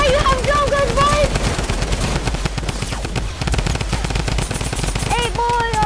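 Drum guns fire in a video game in dense, continuous rapid bursts, loud and close, with excited shouted voices talking over the gunfire.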